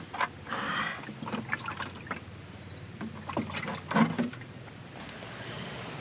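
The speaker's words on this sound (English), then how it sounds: "Just wash my hands." Running water splashes and trickles in irregular bursts as hands are washed outdoors after planting a sapling, moderately close and fairly quiet, with no talking.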